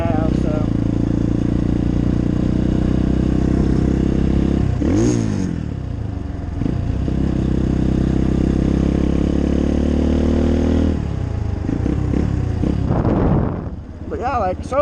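A 2018 Apollo 250RX five-speed dirt bike engine runs steadily and loud throughout, with gear changes and throttle swells near the middle and end, while a rider talks over it.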